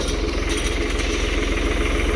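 A tractor engine runs steadily and loudly at close range while spraying a cotton field, its low rumble unbroken throughout with no voices.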